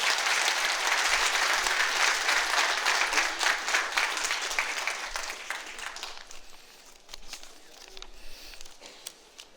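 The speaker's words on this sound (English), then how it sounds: "if we can have a round of applause for Adria from Amazon.com" An audience at a business Q&A session on Amazon account health gives a sustained round of applause, loud and dense at first, then gradually thinning and fading toward scattered claps.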